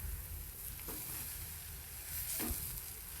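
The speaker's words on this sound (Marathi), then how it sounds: "आता त्याला भाजीला आपण परतून घेऊ." Radish leaf bhaji sizzling steadily in a pan while being stirred and sautéed, with a couple of soft scraping stirs over the continuous frying hiss.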